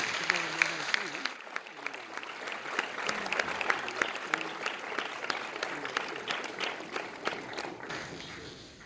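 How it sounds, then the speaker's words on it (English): Applause rises for a Rotary District Governor as guest of honor at a girls' final results ceremony, many hands clapping in a steady, fairly soft wash that tapers near the end of nine seconds, with faint voices mixed in. "Mr. Pereira, a round of applause, ladies and gentlemen."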